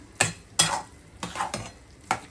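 Roasted brinjal being sautéed with spices in a pan, Uttar Pradesh style: four or five separate scraping stirs of a spatula over a faint sizzle, each a short, close swish.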